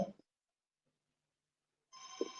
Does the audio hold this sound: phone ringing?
yes